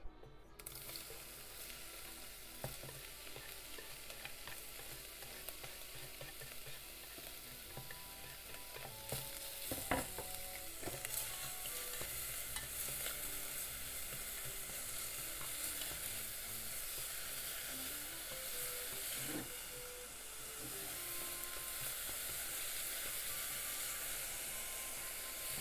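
Bacon frying in a pot with no oil, only its own rendered fat, a continuous soft sizzle and crackle with scattered pops and a few clinks, fairly quiet and steady throughout.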